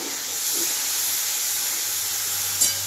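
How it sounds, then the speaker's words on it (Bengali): Steady hiss of steam from a pan where a Bengali home cook fries food with a splash of water, a continuous broadband sizzle lasting throughout with a brief louder crackle near the end, no talk. "এই যে একটুকু জল দিয়ে ভাজবো।"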